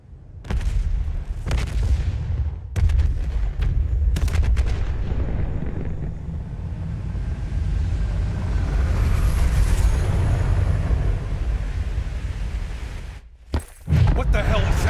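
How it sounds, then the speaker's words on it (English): Explosions and gunfire roar through a military facility in Call of Duty Black Ops 3, with sharp blasts at the start giving way to a dense, continuous rumble of combat; voices speak over the din. "we have multiple explosions across the facility"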